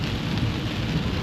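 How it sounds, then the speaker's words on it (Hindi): Heavy rain pours steadily and loudly as a dense, continuous wash of noise at Hampi in Karnataka, with no voices. "लेकिन यहाँ पर बहुत तेज बारिश है।"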